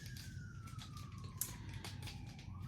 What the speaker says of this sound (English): There's them damn freaking sirens.